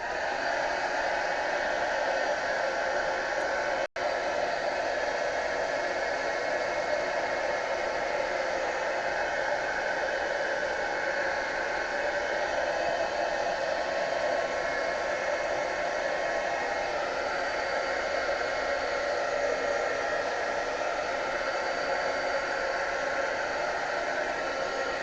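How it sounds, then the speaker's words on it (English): A heat gun blows continuously while working on a duct-tape-bound journal: a steady, close, even rushing roar that lasts the whole stretch without a break. "Heat gun."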